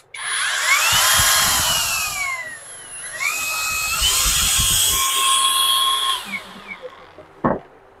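A cordless power tool runs at slow speed in a tools wholesale shop, giving a steady high whine that sweeps up and down over two long runs, then stops with a couple of sharp clicks.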